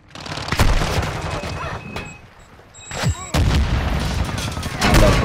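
Gunfire in a shooter video game, with several loud bursts and single shots cracking out close at irregular intervals over a busy game background.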